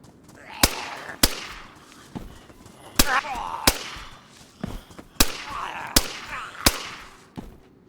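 A flare fired in the DayZ video game, heard as a string of sharp, loud cracks and pops at uneven intervals, like firecrackers or gunshots, with brief fizzing between bursts and a voice talking underneath.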